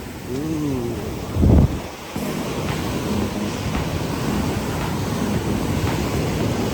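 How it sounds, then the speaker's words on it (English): Waves wash and break steadily on Rockley Beach, Barbados, with heavy wind buffeting the microphone; a brief voice and a loud gust occur early on. "The waves are a little rougher here, at least from what I can see."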